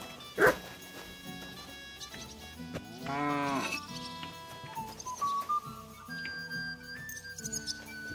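A dog barks in the video game Kingdom Come: Deliverance II, with a sharp single bark early on followed by a longer whining, howling call amid game music and ambience.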